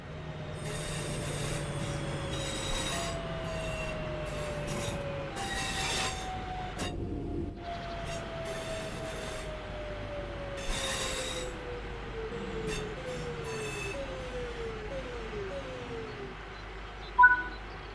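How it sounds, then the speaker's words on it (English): A passenger train in the Train Sim World 5 video game brakes to a stop, a long drawn-out wheel squeal stepping down in pitch over steady rumbling rail noise, with brief hissing bursts and a sharp clunk near the end. "it's time to bring the train to a stop."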